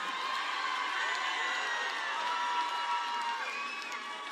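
A sold-out concert crowd in Niagara Falls, Canada, cheers and screams in a dense, sustained wall of high-pitched voices and whoops, loud and continuous without a break.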